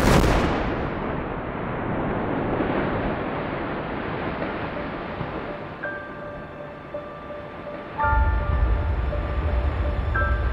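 A rock-blasting charge at the la Praz cliff in the Maurienne valley sets off a loud, sustained roar of rumbling debris and rockfall that carries on for seconds, with a fresh low burst of rumble near the end.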